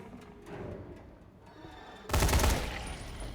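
Gunfire in the zombie game Dying Light, a sudden loud burst of rapid shots near the end after a quieter stretch of low game ambience, with no talk.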